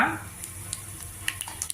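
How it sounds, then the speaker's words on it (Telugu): Cumin, mustard seeds, urad dal, dried chillies and asafoetida sizzle in hot oil for a tempering, a soft steady frying hiss with faint crackles and pops. "పోపు వేగింది"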